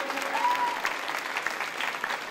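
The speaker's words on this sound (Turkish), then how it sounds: "Daha güçlü gelsin alkışlar." Wedding hall guests applauding in a crowded hall, a steady dense patter of clapping from many hands, moderately distant and continuous.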